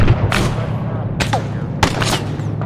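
Gunfire from a WWII artillery or tank gun in a Kasserine Pass video game battle: three loud broadband blasts about every 0.7 seconds over a constant low engine rumble.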